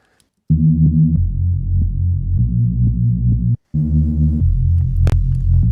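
A thick, buzzing resampled Reese bass drone throbs loud and low through a resonant filter, sustained with one brief cut before resuming.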